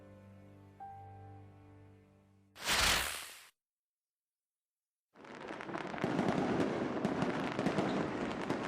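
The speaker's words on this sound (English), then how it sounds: "Didn't know they had fireworks as well." Fireworks at a festival in the game Legacy of a Stray Wolf, heard as a sharp loud burst, a brief silence, then a sustained crackling barrage of bangs, with no speech.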